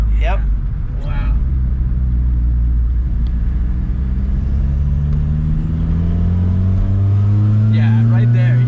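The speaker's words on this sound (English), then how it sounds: "I love the turbo noises. The old turbo noises too." An MK2 Jetta diesel with a turbo pulls under load, its engine note climbing steadily in pitch through a long acceleration with turbo whistle, loud and close from inside the full car, with brief voices near the start and end.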